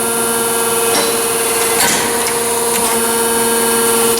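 A Di-Acro 14-48-2 hydra-mechanical press brake with a three-phase motor runs at slow speed, giving a loud, steady mechanical hum and whine with faint knocks and clunks over the top.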